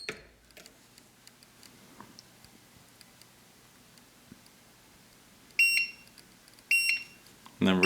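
An HP380D heat press timer alarm sounds in three short, loud bursts of rapid high-pitched beeps near the end, after a long stretch of quiet background.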